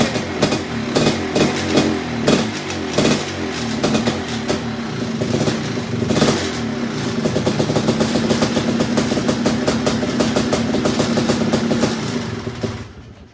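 A Suzuki LT500 Quadzilla quad engine runs steadily and loud at idle, with a busy mechanical rattle from the clutch area ticking through the drone from start to finish.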